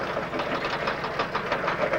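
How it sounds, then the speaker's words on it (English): A 40-horsepower tractor engine idles while it pulls a load, giving a steady, moderately loud knocking rumble close by with no speech. "This is a 40-horse tractor, and there's only idling pulling this turn in."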